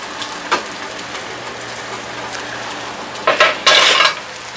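Peppers and onions frying on a cast iron griddle for a cheesesteak sandwich, a steady hiss of sizzling with a few louder bursts of scraping and stirring near the end, close by and without speech.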